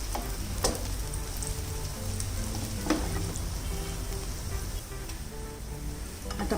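Egg roll frying in a pan over a medium gas flame, giving a steady close sizzle with soft crackles and occasional pops throughout, no voices.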